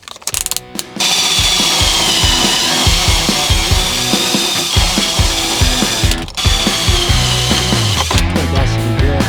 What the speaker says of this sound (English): we got some fresh metal showing after we wire brush it